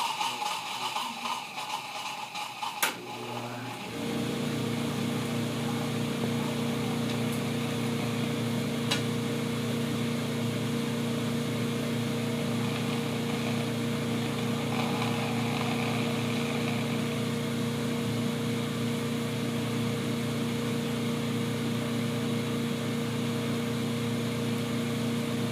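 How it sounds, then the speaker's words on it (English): A laboratory fume hood fan switches on after a few seconds and settles into a steady, even droning hum that continues unbroken to the end. "I'm going to walk over here and turn on the fume hood"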